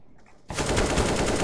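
Rapid automatic gunfire from a machine gun in the video game CS:GO bursts in suddenly after a short quiet moment, then continues as a loud, dense, unbroken stream of shots.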